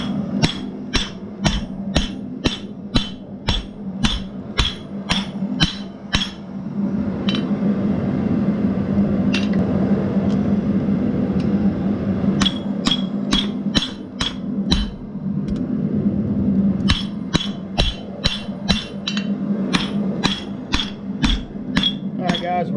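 Rapid bursts of ringing hammer strikes on half-inch round steel being forged into a fire steel handle, pausing midway while a steady low hum continues, then resuming in quick, bright clinking runs close by.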